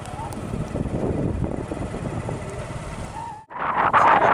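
A motorcycle rides along with a steady engine drone and wind buffeting the microphone, ending in a brief dropout before a louder gust of wind noise.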